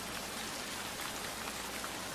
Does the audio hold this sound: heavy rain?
yes